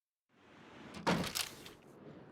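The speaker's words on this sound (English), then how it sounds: "Open the door." A door opens in The Long Dark, with a soft rising creak followed by a louder burst of wind and rattle as it swings, then settling into a quieter outdoor hiss.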